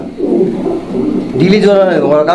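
A domestic pigeon coos close by in a low, throaty rolling call, repeated in a pulsing rhythm while another voice overlaps near the end.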